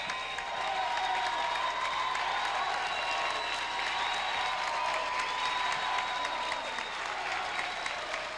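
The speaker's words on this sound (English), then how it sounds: "That crowd is up. The crowd is alive." Basketball game crowd at a 2003 Putnam County boys varsity game, applauding and cheering loudly and steadily throughout, a dense roar of clapping and voices with no break.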